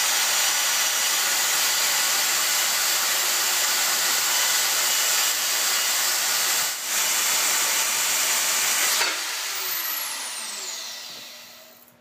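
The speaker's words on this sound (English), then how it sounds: "I really like that porta band." Portable band saw slicing through flat strap iron while building press brake dies, a steady loud grinding hiss running continuously before tapering off as the cut finishes near the end.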